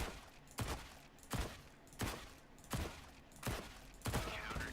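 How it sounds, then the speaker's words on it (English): MP9 submachine gun fire in CS:GO aimed at an armored opponent: five or six sharp, separate bursts spaced roughly evenly, loud and close, with nobody talking. "So if we have a look at shooting an armored opponent"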